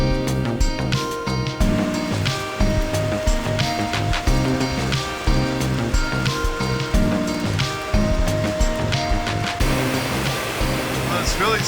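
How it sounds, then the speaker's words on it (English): Rain falling around a train station, a steady hiss of drops with clatter and background rumble, heard close and fairly loud throughout. "Well, it's really starting to rain now."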